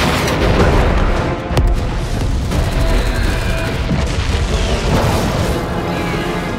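Cartoon robot weapon blasting off in an animated battle, with loud continuous booms and dense explosive rumble and a sharp crack near the middle, all without speech.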